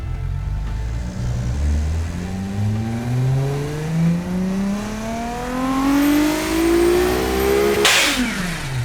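A simulated turbocharged midsize sporty SUV engine in the Automation car tycoon game revs up through several rising sweeps, climbing steadily in pitch with brief dips between, ending in a sharp hiss.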